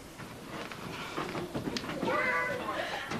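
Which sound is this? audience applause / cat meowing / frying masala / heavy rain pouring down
cat meowing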